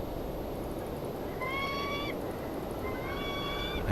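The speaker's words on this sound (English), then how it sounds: "That's a noisy bird." A bird calls in the video game Syberia: two drawn-out, reedy, whistling cries rise and hold over a steady hiss of ambient background noise.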